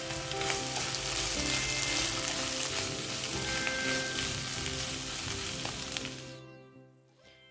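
Kerala beef coconut roast sizzles loudly in the pan with a sprig of curry leaves as it is stirred, a dense crackling hiss with scraping that cuts off abruptly near the end.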